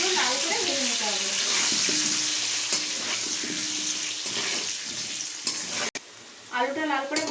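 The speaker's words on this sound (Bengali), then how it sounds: "আলুটা পুরো লাল করে ভেজে নিতে হবে।" Potatoes frying in white oil seasoned with turmeric and salt, giving a continuous hiss and sizzle with stirring movements, a brief break near the end, and faint voice-like sounds over the frying.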